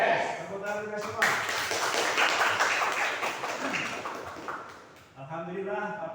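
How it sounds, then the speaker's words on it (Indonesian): A class of students clapping together at the start of an Islamic studies lesson, a busy burst of hand claps over continuous talk, with a teacher's voice heard before and after. "tepuk tangan kita semua"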